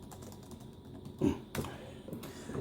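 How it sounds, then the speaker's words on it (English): A few keys are pressed on a Dell Inspiron 640m laptop keyboard, producing soft, close taps at an irregular pace against a quiet background. "type my name."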